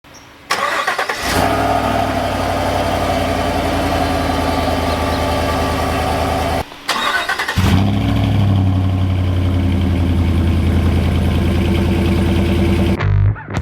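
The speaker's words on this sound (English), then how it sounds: "oh, the new exhaust is real smoking, eh?" A V8 pickup truck engine fitted with a new aftermarket exhaust rumbles loudly and steadily at idle, with a deep throaty drone that briefly cuts out near the middle before resuming.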